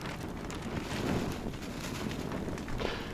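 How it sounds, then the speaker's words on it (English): Wind gusts whip down through a valley at an overnight campsite beside a wood fire, a steady broadband rush buffeting the microphone with a slight swell partway through. "Been getting some good wind gusts every now and then, just whipping down through this valley"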